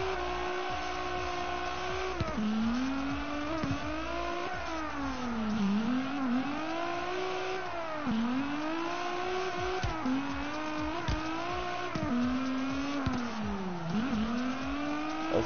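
Cars drifting in CarX Drift Racing Online on PS4, the engine note rising and falling repeatedly as drivers rev and lift, with tire squeal mixed in, loud and continuous throughout.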